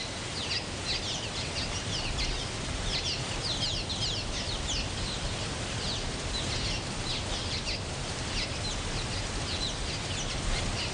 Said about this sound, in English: The birds fly through the wall of water and fight for space on the sheer rocks